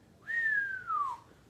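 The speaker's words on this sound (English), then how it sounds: "gave a long, low whistle of awed admiration" A single long, low whistle of awed admiration from a person, rising briefly and then sliding gently downward, clear and alone against a quiet background.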